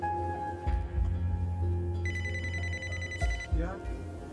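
A phone rings with a tonal electronic ringtone during a ride-hailing pickup, a sustained ring running through the middle of the clip while a person talks over it and background rumble continues.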